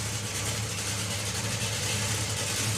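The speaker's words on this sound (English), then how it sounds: "So the car starts up on methanol, then switches over to nitromethane" A drag racing car engine running on methanol and nitromethane at a drag strip, a loud continuous roar with dense rumble and hiss, sustained throughout with no voices.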